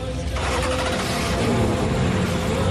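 A car with a four-cylinder engine revs loudly close by, a rough continuous engine roar that builds after a brief quieter start, with faint talk blended in.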